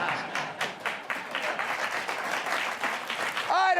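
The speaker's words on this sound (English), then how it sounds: "I don't want your mercy applause" Studio audience applause from a late-night political comedy show, a steady wash of dense clapping lasting a few seconds before a voice cuts in at the end.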